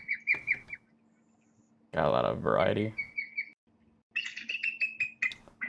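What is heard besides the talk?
recorded bald eagle calls, screechy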